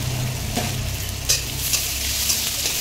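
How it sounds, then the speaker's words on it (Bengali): Mutton curry with papaya stirred in a pan, producing a steady frying sizzle with soft scraping strokes of the spoon at close range, with no talking. "নেড়ে ছেড়ে নেব।"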